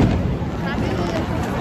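Fireworks bursting at the Toyohashi festival in Japan, a dense continuous rumble of overlapping booms and crackle filling the whole stretch, loud and steady with crowd noise mixed in.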